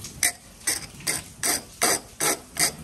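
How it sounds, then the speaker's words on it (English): A hand file rasps across the cut end of a threaded stud to round it over, seven crisp, evenly spaced strokes close by, each a short gritty scrape. "I'm gonna grab a file and I'm gonna clean up the end and I'm gonna try to round it over a little bit"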